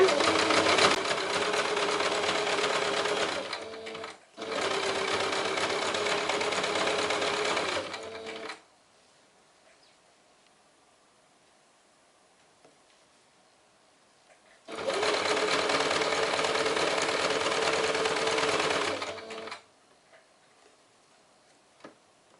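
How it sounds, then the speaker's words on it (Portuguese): Sewing machine running a zigzag stitch to hold a zipper on a small heart-shaped pouch, with two quick bursts separated by a short break, a long pause, then another steady run, loud and close with no talking. "o zigue-zague tem que bater a agulha, bate dentro e fora"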